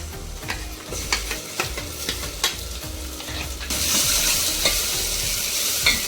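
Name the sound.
ground masala paste frying and stirred in rasam pan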